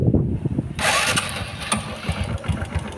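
A Honda Wave 125 underbone motorcycle starts with a short crank, then catches into a steady running engine with an audible exhaust note, close by and fairly loud.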